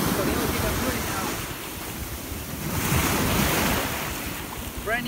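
Ocean surf washes onto a beach amid strong wind buffeting the microphone, a steady broad roar that swells around the middle and eases again, with no talk over it.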